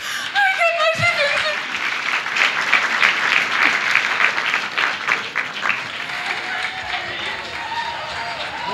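An audience at a Christian worship and testimony gathering claps loudly and densely, with voices mixed in; the applause thins and softens through the second half.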